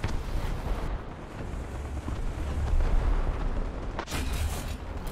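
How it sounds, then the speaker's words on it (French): Artillery strike in the tank video game War Thunder on a Japan map, a sustained rumbling roar of explosions at steady loudness, with a sharper blast near the end. "On va mettre notre artillerie ici sur le chasseur. Double artillerie."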